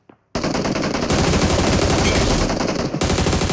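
Rapid automatic gunfire from a video game, likely a battle royale shooter, bursts in after a brief moment of quiet and rattles on loud and continuous, close up, with no talking over it.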